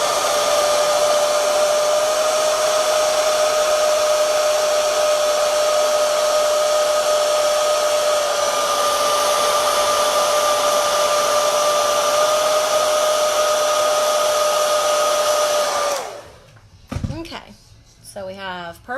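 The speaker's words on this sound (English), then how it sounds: "Give me a hair dryer." A hair dryer blows steadily and loudly at close range with a constant whine for about sixteen seconds, then switches off and a person talks.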